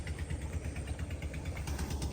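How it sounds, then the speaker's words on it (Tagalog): A machine engine running outdoors, a rough, pulsing mechanical chug with a steady rhythmic beat, moderately loud and continuous with no talking. "Ganun po ang talok ng makina."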